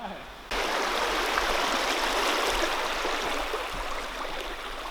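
A river flows in the Barrington Tops during a 4WD outing with mud and river crossings, a loud, steady broadband rush of water that starts abruptly after a brief quieter moment and continues evenly.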